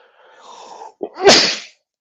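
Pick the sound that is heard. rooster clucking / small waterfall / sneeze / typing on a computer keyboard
sneeze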